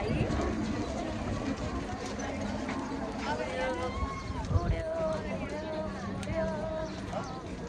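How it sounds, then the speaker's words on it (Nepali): Pigeons coo in a flock at the Boudha stupa square in Kathmandu, soft repeated calls over a busy bed of crowd murmur and footsteps. "देख्न सक्नुहुन्छ परेवाहरू"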